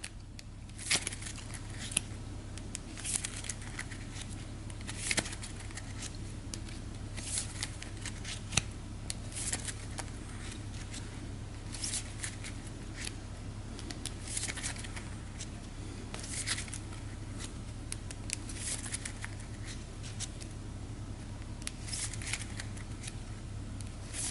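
A Legends deck of cards shuffled again and again, with repeated riffling bursts and soft slaps running steadily and close up, no voices.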